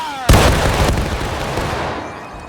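A Civil War artillery battery fires in the video game War of Rights, one heavy, close cannon blast that rolls into a long, fading rumble.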